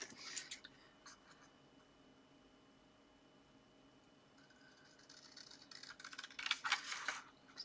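Scissors snipping a thin strip off a paper or fabric edge in a quiet room, faint scratchy cuts at the start and a louder burst of crisp snips near the end.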